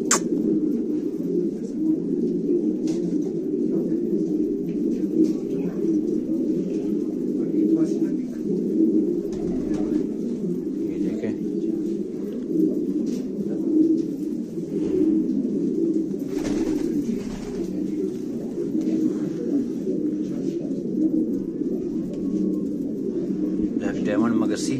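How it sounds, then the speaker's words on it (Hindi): Large-bodied fighter pigeons coo continuously and steadily throughout a loft in Quetta, a close, dense murmur of overlapping calls with occasional faint clicks and rustles. "सारे बड़े बॉडी के कबूतर हैं।"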